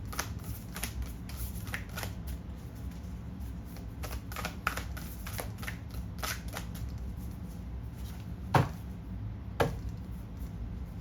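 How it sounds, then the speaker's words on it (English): Tarot cards riffle and snap in repeated quick bursts, close and fairly quiet, with a couple of sharper slaps near the end. "we're going to shuffle again for the other side"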